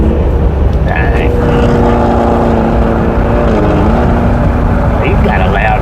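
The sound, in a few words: passing vehicle with a loud muffler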